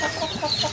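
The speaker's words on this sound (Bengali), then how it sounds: "ভিতরের মোরগগুলো দৌড়াদৌড়ি ছোটাছুটি করা শুরু করে দিচ্ছে" Roosters on a farm flock cluck and scuffle as they run around, a close, busy burst of fowl noise with no talking.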